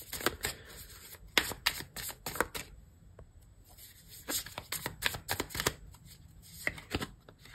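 Tarot cards being shuffled and drawn, a run of quick crisp riffling bursts and flicks in two clusters with a short quiet gap between them, close and fairly faint, with no talking.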